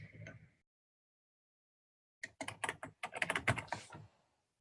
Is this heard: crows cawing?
no